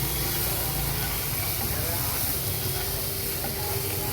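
Ground spice paste poured into a hot pan on a home stove, raising a steady, close hissing sizzle that keeps an even level, with a voice talking faintly beneath.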